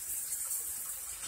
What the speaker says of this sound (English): Now we're turning up the cold water